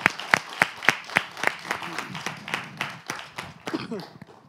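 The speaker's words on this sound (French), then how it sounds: "On acclame pour notre collègue" A small audience gives a short burst of hand claps in honour of a colleague: a few sharp, evenly spaced claps at first, then looser, overlapping clapping with faint voices mixed in.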